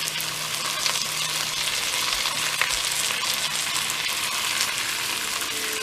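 About a tablespoon of tomato paste sizzles in an oiled pot for beef bourguignon, a dense, continuous frying hiss close by with a couple of soft knocks and no voices.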